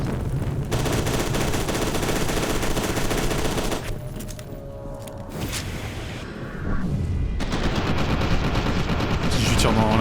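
Sustained, loud automatic gunfire from the video game F.E.A.R. 2 rattles on almost continuously, with explosive bursts and a brief dip in intensity midway before the firing swells again.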